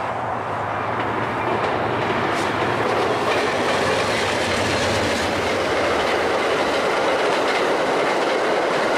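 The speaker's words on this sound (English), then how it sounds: "the Southwest Chief passed the station with a Pacific Surfliner car at the rear" An Amtrak Southwest Chief passenger train with a Pacific Surfliner car at the rear rolls through a central New Mexico station, a loud steady rumble with clickety-clack of wheels over rail joints, no voices.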